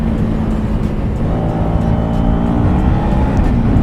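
A motorcycle carrying two riders on a mountain road ride toward Rohru gives a loud, continuous engine roar mixed with wind rush, rising slightly toward the end, with no talking.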